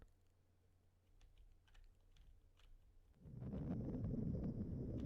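Computer keyboard keys tapped while playing a Digimon World 1 game on an emulator, a few faint, scattered clicks in quiet, then a louder rumbling hiss covering the rest.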